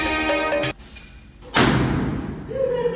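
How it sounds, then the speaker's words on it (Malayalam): A firecracker goes off during a birthday surprise as a single sudden loud bang, followed by a rushing decay, with voices speaking before and after. "ആരവിടെ പടക്കം പൊട്ടിച്ചത്?"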